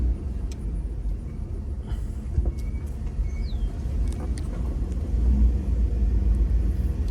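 1986 Chevrolet Caprice rolling slowly out of a garage over dips, a steady low engine and road rumble with faint creaks and knocks, no talking.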